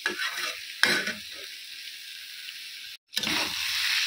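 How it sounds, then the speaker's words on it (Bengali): Food sizzling in a frying pan with salt just added, a utensil stirring and scraping through it in short bursts, with a brief break in the sound near the end before the sizzle resumes. "লবণ দিয়ে দিলাম, নাড়াচাড়া করে দিচ্ছি।"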